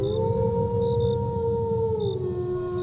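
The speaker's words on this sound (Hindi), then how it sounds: "ये कोई जानवर का आवाज़ जैसा था, कोई भेड़िया या सियार या कुत्ते का आवाज़ जैसा।" Animal howl, like a wolf, jackal or dog, heard at night near a highway, a long sustained wavering tone that slowly falls in pitch, steady and fairly clear over low background rumble.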